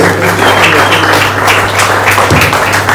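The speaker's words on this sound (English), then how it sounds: "Let the other students give them a round of applause." Steady applause from an audience fills the room at a Lagos State intercollegiate school sports event, dense and continuous clapping at close range with a low hum underneath.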